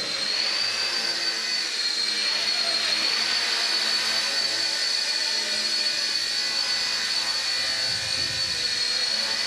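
A small ready-to-fly RC helicopter lifts off and hovers, its rotor and motor giving a steady high-pitched whine with a broad airy rush that holds close and even throughout, with no talk.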